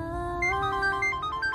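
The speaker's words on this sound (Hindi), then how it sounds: "अम्मा दिशा का फोन है" A mobile phone ringtone plays a bright, steady electronic melody with a repeating pulsing pattern, close and clear with no talk over it.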